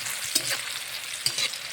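Capsicum and green chili frying in a pan for fried rice, a steady close sizzle with a couple of sharp scraping stirs cutting through.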